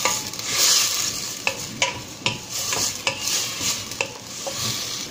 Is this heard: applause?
no